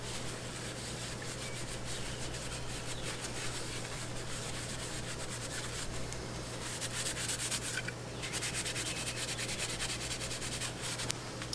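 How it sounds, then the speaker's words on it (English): Wet sandpaper rubbing back and forth over a plastic brake duct inlet from a Mini Cooper, a continuous scratchy grinding that keeps going with a slight surge near the end. "we're going to go ahead and wet the sandpaper."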